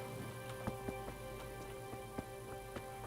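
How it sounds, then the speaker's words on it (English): Rain falls steadily in the medieval world of Kingdom Come: Deliverance, a constant soft hiss with occasional brighter droplet ticks, heard alone at moderate level. "Rain appeared out of nowhere."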